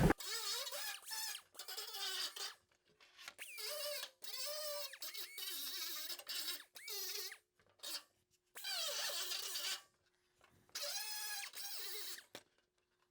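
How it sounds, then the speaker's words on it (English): A grinder works the back side of a 1933 Ford fender in repeated bursts, each a harsh, high whining scream against the metal, separated by short silent pauses. "So we're going to grind that up a little bit, first on the back side"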